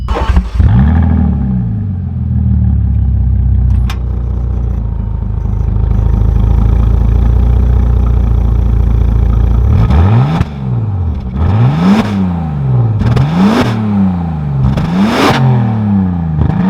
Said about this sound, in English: But let's take her out and see how she drives.